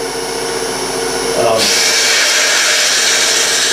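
A wood lathe spins as a walking cane is turned toward a tapered handle end, a steady motor whine and rushing hiss that grows brighter and louder partway through as the tool bites the wood.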